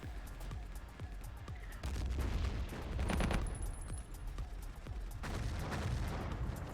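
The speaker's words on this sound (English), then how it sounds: "A lot of nades going on." Repeated muffled booms of grenade explosions in a multiplayer video game match, scattered at irregular intervals amid a steady din of gunfire and effects.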